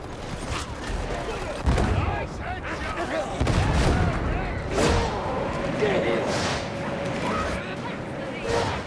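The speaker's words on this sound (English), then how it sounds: "Frag grenade." A frag grenade blast and bursts of gunfire in a Warhammer video game, with thumping impacts and scattered shots over several seconds while a player talks over the action.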